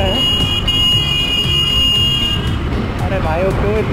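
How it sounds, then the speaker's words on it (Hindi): A vehicle horn honks in busy city traffic while crossing a bridge toward Malad, a sustained tonal blare for about two and a half seconds under steady road noise, with a voice talking over it. "अरे भाई वो क्यों इतना हॉर्न बजा रहा"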